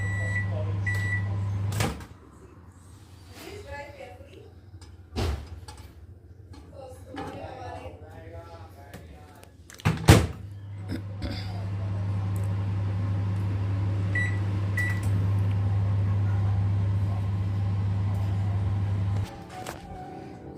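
A steady low microwave hum runs through most of the clip as sweet potato slices roast inside, broken by a few clunks and a door sound, with occasional quiet talk.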